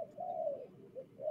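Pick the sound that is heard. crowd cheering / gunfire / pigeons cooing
pigeons cooing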